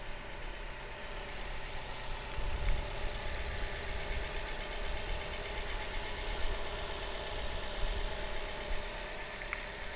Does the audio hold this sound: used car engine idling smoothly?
yes